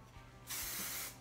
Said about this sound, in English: you can start spraying with hairspray so it stays put